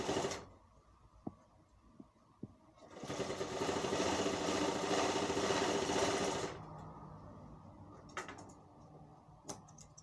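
A sewing machine stitching a gents' kalidar kurta seam with the margin folded inside, running in one steady loud burst for about four seconds between a few light handling clicks and taps.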